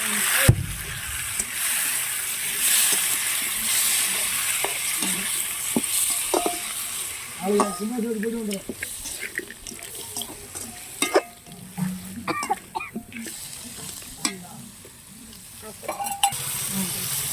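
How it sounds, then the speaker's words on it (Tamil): Four or five tomatoes sizzle in hot oil in a pan while a spoon stirs them, with scraping and clinking against the pan over a steady frying hiss. "தக்காளி பழம் போட்டு நல்லா வணக்கி விட்டுருங்க."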